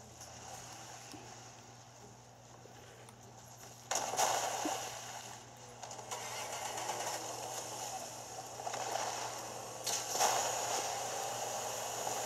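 A video game boat in Fortnite: a steady low engine hum with water washing and splashing, swelling in a few louder surges, with no talking.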